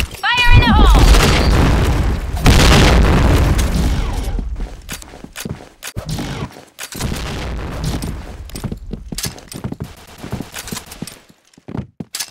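In a shooter video game, a grenade goes off with a loud, deep boom and a rumbling tail, followed by scattered gunshots and clatter, with voices talking over the action.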